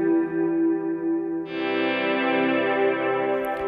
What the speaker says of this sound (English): So first I'm going to put the chorus on this delay, which the guitar swells are feeding.